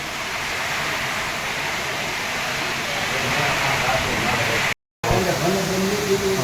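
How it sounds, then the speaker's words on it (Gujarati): Heavy monsoon rain pouring down outside a house, a dense steady roaring hiss that fills the whole clip, with a voice talking over it near the end. "જોરદાર વરસાદ ચાલુ છે અહીંયા."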